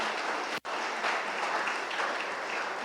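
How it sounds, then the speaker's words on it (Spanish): A church congregation applauds during a sermon, with a continuous wash of many hands clapping together at a moderate distance and a brief dropout near the start. "¿Puede darle un aplauso al Señor si entiende lo que le estoy diciendo?"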